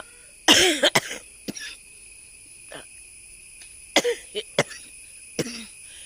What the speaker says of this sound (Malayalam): ചുമ മാറിയില്ല